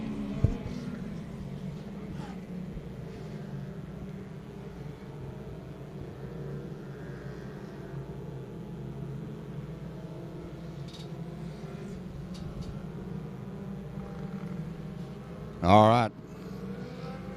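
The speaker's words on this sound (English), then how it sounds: "24 of your Pro Dwarf cars ready to take the green flag here in this 30-lap A main feature event" Two dozen Pro Dwarf race cars idle and roll in formation before the green flag of a 30-lap A main feature, a steady low engine drone throughout, with a brief sharp burst near the end and a short spoken remark.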